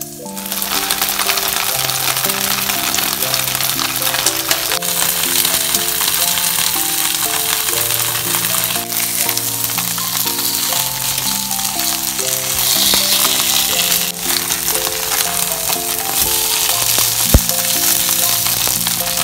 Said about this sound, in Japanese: 片栗粉をまぶしたお豆腐をごま油で焼いて焼きます。